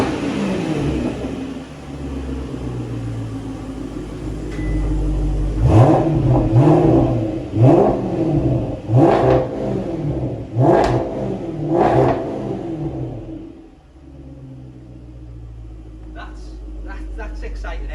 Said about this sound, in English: So it's got an Overfinch factory switchable exhaust system, which sounds fantastic.